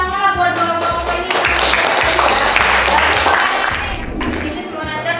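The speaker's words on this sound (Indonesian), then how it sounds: "Kasih tepuk tangan lah buat kelompok ini." Classroom applause for a student group at an Indonesian senior high school: a crowd of students clapping loudly and densely for several seconds, with voices and chatter mixed in.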